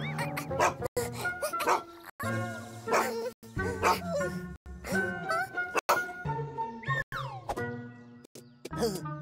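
A dog barks and yips in sharp repeated bursts alongside other animated voices, close and lively, with short gaps between outbursts.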